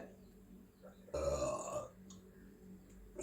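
A single burp after eating, heard close and fairly quiet, a short throaty rumble over faint room noise.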